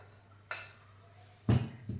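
Onions and crushed ginger are stirred in a pan, with a few distinct scraping clatters of a utensil against metal, the last ones louder and closer together, over a faint steady hum.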